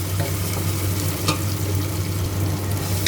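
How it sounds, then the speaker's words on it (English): Onions, garlic, tomatoes and coriander stalk sautéing in oil as the base of a fish curry; an even, continuous sizzle over a low steady hum, with no one speaking. "Now let that saute."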